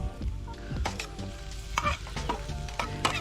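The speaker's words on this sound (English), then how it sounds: "We'll add some onion first. And fry it for a while." Onion fries in a pan over a campfire with a close crackling sizzle, broken by repeated clinks and scrapes of stirring.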